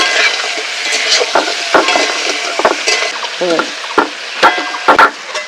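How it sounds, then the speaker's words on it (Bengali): Crab legs fry in a pan, a crackling sizzle punctuated by sharp spatula scrapes and clanks against the metal, close and fairly loud. "কাঁকড়ার ঠ্যাংগুলো তো ভাজা হয়ে গেছে"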